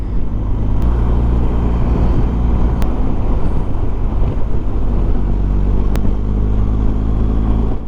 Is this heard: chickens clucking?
no